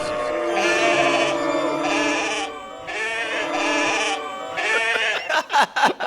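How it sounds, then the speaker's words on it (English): Several goats bleat in loud, wavering, overlapping cries, alone with no talk, ending in a few sharp, choppy bursts. "Where'd they get the goats?"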